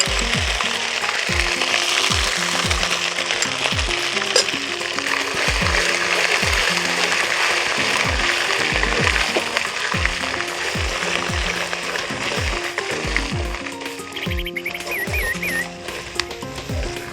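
Ginger-garlic paste ground on a stone slab goes into hot oil with panch phoron and bay leaves for a village-style Bengali rice dish, giving a loud, steady sizzle broken by regular knocking thumps throughout.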